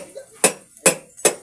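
A hammer strikes three times in an even rhythm, each blow a sharp, loud metallic clang close by at a construction site during a concrete slab pour, with a voice murmuring faintly between the hits.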